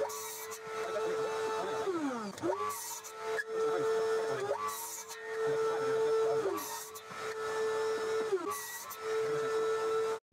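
A miter saw at a woodworking station cuts workbench leg pieces to length against a stop block, its motor whining steadily while several blade passes bite through the wood in a repeating cycle, close and loud.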